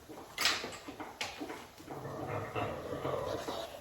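A dog named Simon playing noisily with his toy indoors, scattered scuffs and thumps with a brief sharp sound early on, fairly faint and uneven.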